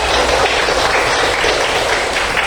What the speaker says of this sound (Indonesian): Luar biasa, tepuk tangan semuanya.